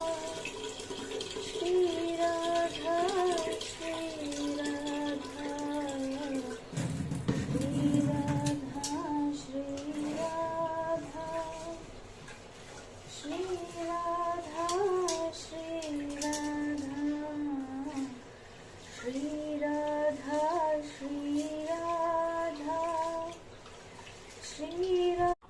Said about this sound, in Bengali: এখন চালটা নিয়ে আমি চালটা ধুয়ে দিচ্ছি